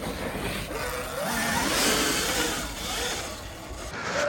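A 79bike Falcon Pro electric bike rides past in a quick test, a whirring motor and drivetrain hum that rises and falls as it speeds up, with wind rush around it.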